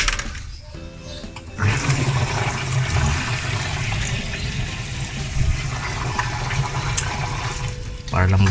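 Water drains in a loud, steady gushing rush from a Sharp ES-JN07A9 washing machine with an E1 drain error as the drain motor is pushed, starting after a short quieter stretch and running continuously close by.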